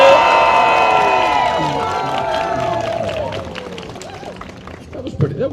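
A crowd at the Jorvik Viking Festival 2024 cheering and shouting loudly for a contest entrant, a dense roar of voices that fades gradually over several seconds, followed by scattered claps and shouts.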